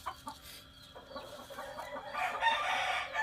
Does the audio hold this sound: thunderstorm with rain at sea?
no